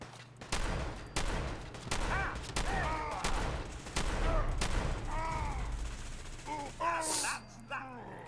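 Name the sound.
gunfire in the video game Fallout 4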